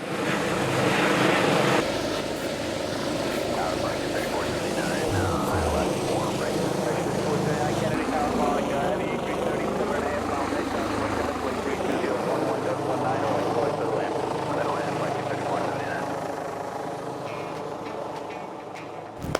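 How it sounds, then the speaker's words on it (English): Steady, heavy rotor thrum from a helicopter overhead during a basket hoist, loud and continuous throughout, with a broad whooshing roar and faint voices mixed underneath. "doesn't get caught up in the rotor wash from the helicopter"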